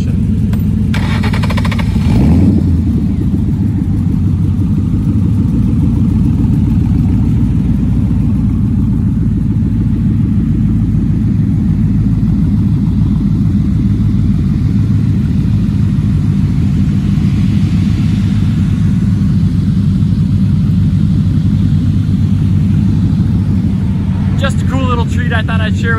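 Several Ford Mustang Coyote 5.0L V8 engines from different generations idle together outdoors, a loud, deep, steady rumble that holds throughout with slight rises and a brief revving swell near the start, with someone speaking over it.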